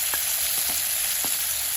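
Carrot and tomato hit a hot pan over a jungle campfire, a loud, steady hiss of frying oil with a few soft scraping stirs, continuous and close.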